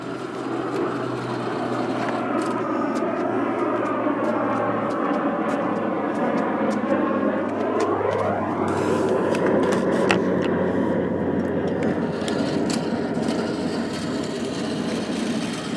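A Tamiya 3-speed gearbox whirring steadily, a continuous close motor drone with a rising whine partway through as the pitch climbs and settles into a higher, busier hum.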